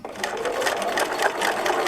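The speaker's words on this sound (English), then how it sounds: "put your needle down, and sew close to the edge of that decorative strip" A sewing machine stitches close to the edge of a decorative strip on a June Tailor Caitlyn tote, a brisk, rapid rhythmic needle chatter running steadily throughout, near and clear.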